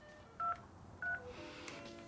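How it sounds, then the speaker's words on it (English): Two short telephone keypad tones, spaced about half a second apart, dialing to add a caller to a three-way phone line, quiet and alone with low line hiss between them. "I'm gonna put Tanya on the other line"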